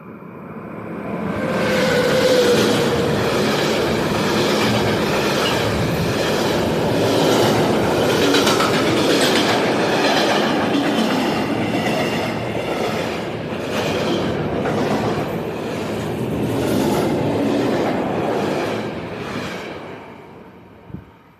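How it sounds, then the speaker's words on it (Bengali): A train rushes across a big bridge over a river at night, a loud, steady rumble with rhythmic wheel clatter that fades in, holds for about twenty seconds and dies away, ending with a single sharp knock. "কি বড় ব্রিজ! ট্রেন ছুটছে।"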